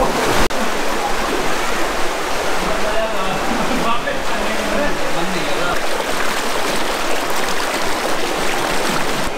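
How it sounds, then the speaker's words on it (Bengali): A fast-flowing monsoon stream at Sahastradhara near Dehradun, a loud, continuous broadband rush of water that fills the whole clip without letting up. "বর্ষাকাল বলেই এখন জলে এত স্রোত বেশি।"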